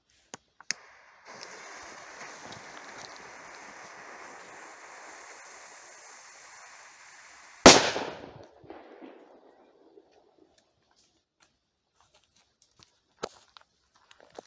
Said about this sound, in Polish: Petardki walą bardzo mocno.